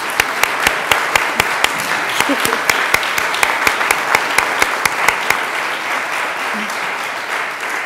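Applause from an audience honoring teachers at a farewell gathering, a steady wash of clapping with sharp individual claps standing out, lasting several seconds before fading.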